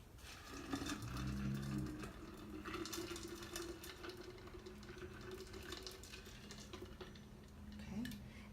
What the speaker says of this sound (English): And we're going to add some water to it.